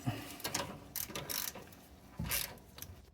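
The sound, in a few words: ratchet removing 10 mm bolt from 2010 Ford Expedition rack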